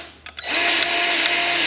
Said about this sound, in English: we're gonna be using hands down my favorite Milwaukee tool, the cordless grease gun